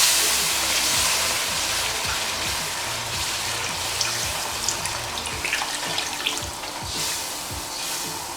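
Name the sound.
water poured into pot of Nigerian jollof rice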